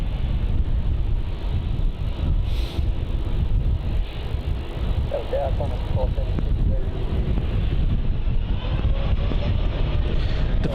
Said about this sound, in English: Departing now, we have Jetstar flight JQ43 off to Denpasar. It's another 787-8.